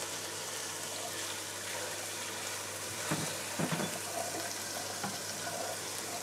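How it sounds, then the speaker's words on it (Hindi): Spices fry in a pot for chicken kofta pulao, giving a soft, steady sizzle with a few brief stirring clatters partway through, close but fairly quiet, with no talking. "मसाले हमारे भून रहे हैं"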